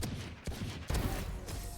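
Phantom rifle fire in Valorant, a short run of rapid sharp shots in quick bursts, fairly close and moderately loud, with no talking.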